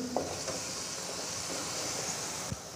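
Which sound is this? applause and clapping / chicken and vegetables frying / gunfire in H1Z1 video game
chicken and vegetables frying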